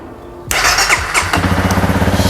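A Honda CRF300L with a fresh battery cranks and fires at once, jumping to a loud close-up rev that quickly drops into a steady, pulsing single-cylinder idle.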